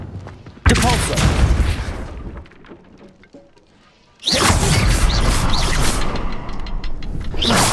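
A Depulso spell going off in Hogwarts Legacy: a loud whooshing blast, then a quieter lull, followed by a second heavy, sustained rushing burst with crashing debris. Both are close and forceful.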